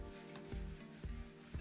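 Sanding a fiberglass bathtub surface during a tub refinish, a close scratchy rubbing with rhythmic strokes about every half second over a steady hum.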